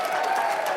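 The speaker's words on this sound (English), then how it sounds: "big round of applause" Brief burst of audience applause on a live talk show, a short even wash of clapping from the crowd at moderate level.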